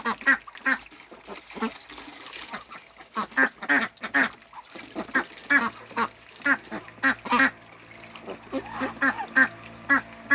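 Farmyard ducks and geese beg for grass and food, a lively series of close, repeated quacks and nasal honks arriving in irregular bursts with short pauses between them.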